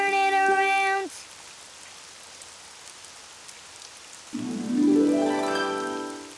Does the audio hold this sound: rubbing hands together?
no